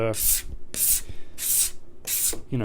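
A steel card scraper makes four rhythmic strokes across a wooden guitar back, each a close, bright rasping scrape with short pauses between. A voice is briefly heard at the edges.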